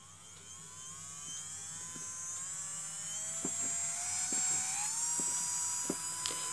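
A small DC metal gear motor runs close by with a steady high-pitched whine that climbs in pitch as it speeds up from a start, with faint ticking clicks underneath.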